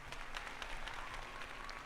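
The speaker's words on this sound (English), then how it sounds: "Again, a round of applause to" Steady applause from a group, a dense patter of many hands clapping at an even level, with no voices over it.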